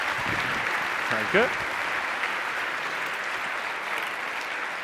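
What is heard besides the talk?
audience applause at a science slam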